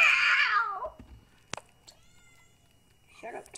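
A drawn-out cat meow, loud and close, falls off after about a second, followed by a sharp click, quiet room tone, and a shorter meow-like cry at the end.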